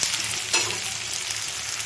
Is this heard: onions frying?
yes